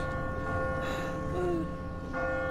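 A bell tolls in a bell tower in The Walking Dead video game, sustained ringing tones held under a dense game mix and faint talk.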